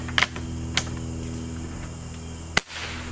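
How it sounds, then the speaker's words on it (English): A Beeman 2078 air rifle dry fired, a single sharp snap standing out near the end, with a couple of lighter clicks before it over a steady hum in the background. "Let's see if we can dry fire it."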